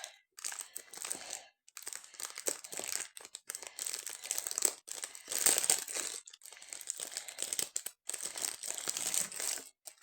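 A package covered in lots of tape is pulled open by hand, with continuous close crinkling, crunching and tearing of wrapping in irregular bursts.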